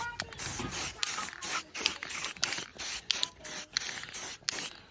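Hissing bursts of a spray paint can, repeated in short pulses with brief gaps, close and steady, no voices.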